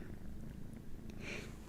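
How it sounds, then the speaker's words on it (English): A kitten purrs softly and steadily, a low continuous rumble close by, with no voices over it. "end the stream here with an abundance of gratitude and a purring kitten"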